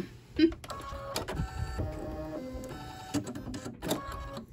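An embroidery machine stitches out the applique placement line, with a steady mechanical whirring and rapid needle clatter, close and continuous with a few louder knocks.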